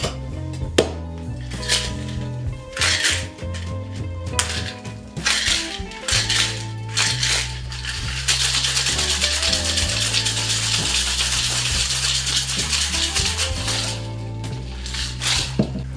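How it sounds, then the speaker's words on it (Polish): Ice rattles hard inside a cocktail shaker while a martini is being made, a dense sustained shaking noise that runs for several seconds beneath steady background music. "Teraz dodam lodu i wstrząsnę, po lód sięgając do zamrażalki. Zamykamy wstrząsacz i wstrząsamy."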